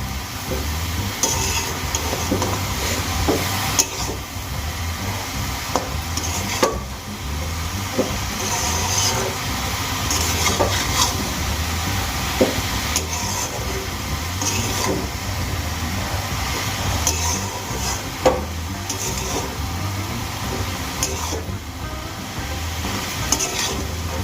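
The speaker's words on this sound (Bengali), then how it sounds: "এবার শাকগুলো আমি খুব ভালো করে ভেজে নেব।" Data shak greens with turmeric, salt and garlic frying in a pan, with a continuous loud sizzle and regular scraping stirs and clatters across the whole stretch and no talking.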